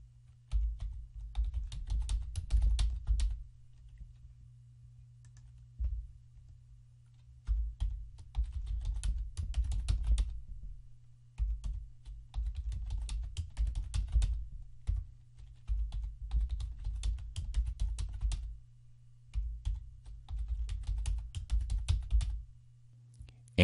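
Password typed on a computer keyboard, close rapid bursts of key clicks in several runs separated by short pauses, over a low steady hum, with no talk.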